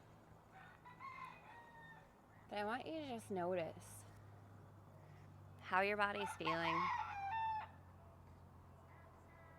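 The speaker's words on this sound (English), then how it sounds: "Maybe you're hearing that rooster crowing" A rooster crows close by twice, each crow a loud rising and falling call, with smaller chicken calls in between, over steady low background hum while a calm voice talks between and around the crows.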